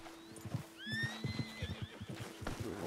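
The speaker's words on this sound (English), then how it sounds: "Horse." A horse in the video game Red Dead Redemption 2 gives a clear rising whinny over a series of hoof clops, loud and close, with game ambience behind.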